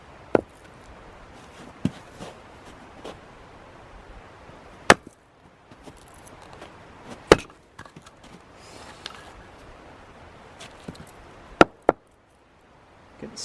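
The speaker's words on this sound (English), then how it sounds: "So we'll chop up some of this a little bit smaller, make it a little bit easier to get the fire started." Semi-dry firewood is chopped into smaller campfire pieces in a snowy camp, sharp isolated whacks landing irregularly every second or two, some much louder than others, with quiet handling sounds between.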